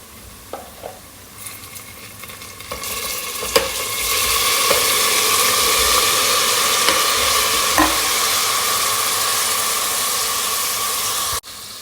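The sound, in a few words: chicken frying with fried onions in a pan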